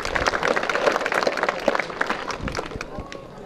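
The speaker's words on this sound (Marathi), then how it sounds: "जोरदार टाळ्या वाजवायच्या आहे सगळ्यांनी" Crowd applause at a village Ganesh festival prize distribution in Khandala, Shrirampur, a short burst of scattered claps with voices mixed in, fairly quiet and tapering off.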